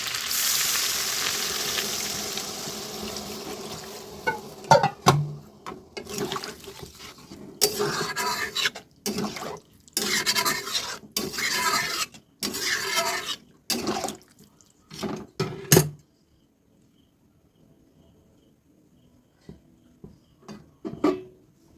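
Water poured into a hot pan of potato and pointed gourd curry, a loud hissing sizzle that bursts in choppy surges with clanks of a spatula and pan, then dies down to a faint simmer.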